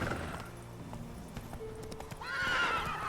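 Hooves of Roach, a horse in The Witcher 3, clip-clop in a steady trotting rhythm against a game soundscape, then a loud whinny rises near the end.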